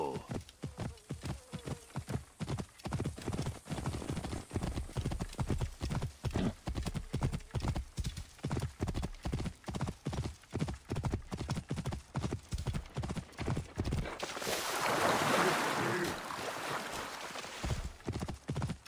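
Horse hooves clip-clop in a steady galloping rhythm while riding in Assassin's Creed Origins, close and continuous, with a brief gust of wind or whoosh near the end.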